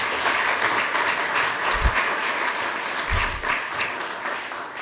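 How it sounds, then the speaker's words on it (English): Audience applause at a lecture hall event honoring a professor, a steady, even roar of many hands clapping throughout, with a couple of low thumps beneath. "One more round of applause."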